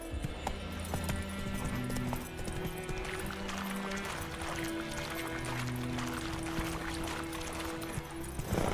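Roach the horse gallops in The Witcher 3, hoofbeats clip-clopping in a quick steady rhythm throughout, loud and close, mixed with game music and faint ambient sounds.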